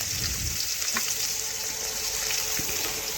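Chopped onions fry in oil in a kadai with a steady close sizzle, broken by a few faint clinks.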